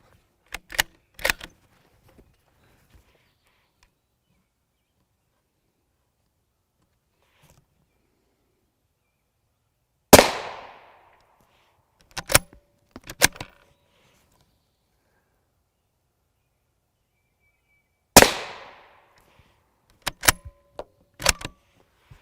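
A TC Compass rifle with a 22-inch barrel fires at an HWin multi-curve Level III silicon carbide armor plate, producing sharp loud cracks in clusters of two or three, separated by long stretches of silence.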